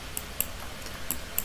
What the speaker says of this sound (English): I just apply these dots by double-clicking my mouse